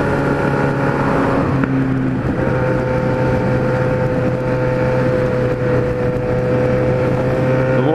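Loud, steady engine drone from a Z1000 motorcycle with a rising whine as fast motorcycles roar past close by on the way to the Barretos Motorcycles 2016 event, continuous road noise throughout.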